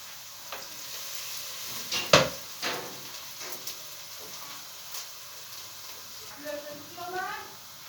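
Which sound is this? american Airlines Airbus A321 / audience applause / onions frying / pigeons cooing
onions frying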